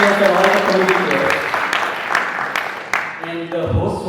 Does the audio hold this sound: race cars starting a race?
no